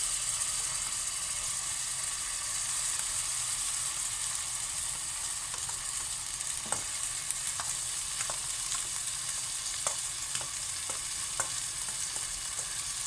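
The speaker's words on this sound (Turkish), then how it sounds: "Şimdi bulgurumuzu koyuyoruz." Bulgur sizzles steadily in a hot pan for a buttery bulgur pilaf, a dense, even frying hiss with scattered sharp ticks and clicks from stirring, close and continuous with no voices.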